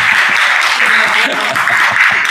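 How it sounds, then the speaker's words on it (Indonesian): A short burst of audience clapping for a guest introduced at an Indonesian religious talk, brisk and continuous for a couple of seconds, with voices mixed in underneath. "Kita tepuk tangan dulu dong buat ketua geng."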